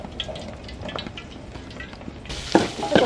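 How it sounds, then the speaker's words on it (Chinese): Diced chicken breast being stir-fried in a little oil in a wok over a very strong flame. A steady, close hiss and crackle grows noticeably louder and harsher near the end, with a few sharp spits. "留一点点，直接给它爆炒一下"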